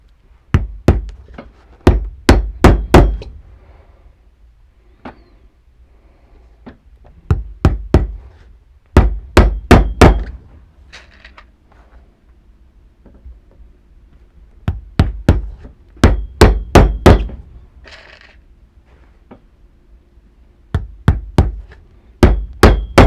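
Threaded nails are hammered through the sole of a Grant Stone boot during a full resole, with sharp close metallic blows landing in quick bursts of four to six, separated by short quiet pauses.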